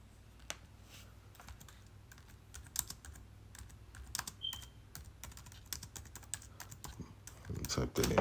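Fast, steady typing on a computer keyboard, a close run of sharp clicks and clacks with a few louder key strikes near the end.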